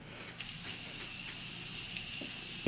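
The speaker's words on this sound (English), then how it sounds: "So I'm just going to go ahead and spray my face." Morphe setting spray misted onto the face in a single long, steady hiss that starts abruptly and runs close and fairly quiet to the end.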